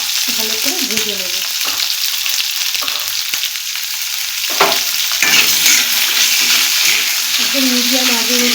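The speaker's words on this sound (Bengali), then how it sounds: "এবার আমি আলুগুলো একে একে এর মধ্যে ভেজে দিচ্ছি" Potatoes fry in hot oil with salt, a loud continuous sizzle with scraping stirs. Music plays underneath and drops out briefly partway through.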